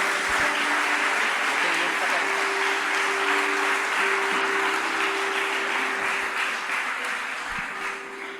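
Sustained applause from a church congregation fills the room, a dense, steady wash of clapping that tapers slightly at the end, with a voice faintly underneath.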